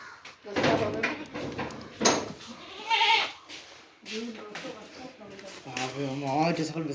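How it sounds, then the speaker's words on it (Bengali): Black Bengal goats on a farm in North Bengal bleat several times, close and clear, with long wavering calls mixed with someone speaking nearby and a brief clatter. "আপনারা দেখতেছেন যে আমাদের ব্ল্যাক বেঙ্গল ছাগলগুলো"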